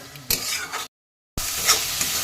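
Spinach and prawns fry in a pan, sizzling loudly and close as they are stirred. Scraping and tossing sounds come in bursts, with a short dead-silent gap in the middle.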